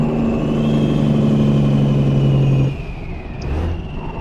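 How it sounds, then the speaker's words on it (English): A loud modded vehicle engine in a video game holds a steady, droning hum with a high whine on top, then drops abruptly to a softer idle rumble partway through. "This engine, modded engine I run is it's very loud by default."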